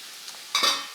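Celery and onions hit with cider vinegar in a hot frying pan, a brief sharp hiss that swells suddenly after a faint click and then fades, close and alone.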